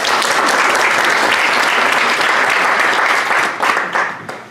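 Steady, dense audience applause fills a meetup room at a property investment event, holding loud and even before thinning out with a few scattered claps at the end.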